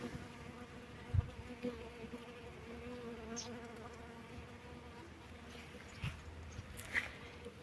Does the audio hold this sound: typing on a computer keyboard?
no